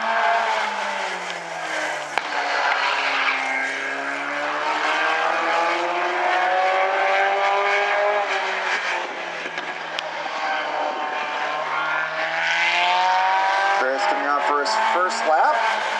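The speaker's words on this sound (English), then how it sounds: "Chris Green out next in the 75 car from Spanaway" A midget race car on a Triple X chassis runs a qualifying lap at South Sound Speedway, its engine a steady loud drone that rises and falls as it circles the track, with an announcer talking over it throughout.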